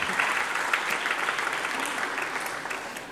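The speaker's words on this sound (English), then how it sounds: "Big round of applause for Liz" A seated audience gives Liz warm, dense applause at a real estate meetup, steady throughout and slowly fading, with no talk over it.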